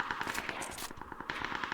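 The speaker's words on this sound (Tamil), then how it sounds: "நான் இந்த துப்பாக்கி வச்சு அடிச்சுட்டு இருந்தேன்." Rapid automatic gunfire from a gun in the battle royale shooter PUBG on the Rondo map, two quick evenly spaced bursts of shots, fairly faint and distant-sounding, with no talk.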